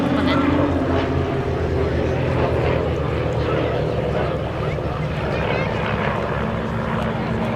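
Team Raven display aircraft, propeller planes flying in at the Duxford Battle of Britain air show, a loud continuous droning engine roar across the whole stretch, steady and sustained, with a commentator's voice over the public address.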